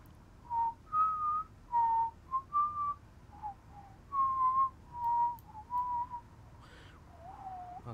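A person whistles a halting, wavering tune in short separate phrases, close and fairly clear over a low steady cockpit-like hum, with no talking.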